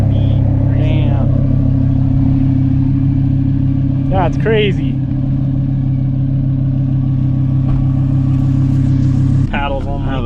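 A Lamborghini with an aftermarket LNB exhaust idles with a steady, loud engine drone throughout. People talk over it in short bursts.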